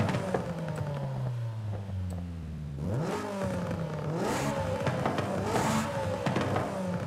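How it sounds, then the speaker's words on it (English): Stock exhaust of a car in Forza Horizon 5, revving up and down through several gears, with rising and falling engine tones, brief shift dips and some clatter, loud and close with no talk. "This is what the stock exhaust sounds like."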